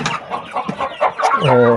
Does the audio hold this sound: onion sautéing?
no